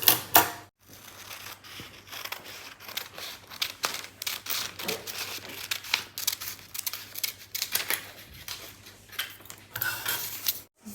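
Scissors snip and crinkle paper in quick, irregular close-up cuts and rustles, with a low steady hum behind them and no talking.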